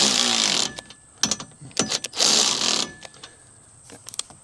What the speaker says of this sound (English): While I got this socket on this handy dandy ratchet